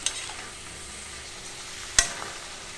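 Homemade potato chips frying in oil give off a faint, steady sizzle, broken by one sharp clink of a utensil partway through.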